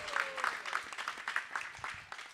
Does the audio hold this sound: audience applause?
yes